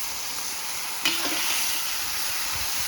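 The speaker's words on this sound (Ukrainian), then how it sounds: "Зараз я перемішаю і прийму рішення, можливо, потрібно буде додати іще" A spoon stirs Transcarpathian bograch goulash in a cauldron over an open fire, a single scrape and clatter against the pot above a steady sizzling, crackling background.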